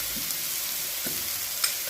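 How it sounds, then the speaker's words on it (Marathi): Mustard greens with garlic sautéing in ghee give a steady, even sizzle with a few faint stirring scrapes and a soft clink at the end. "ते सगळं चांगलं परतायचं आणि यामध्ये आपल्याला तूप घालायचं आहे।"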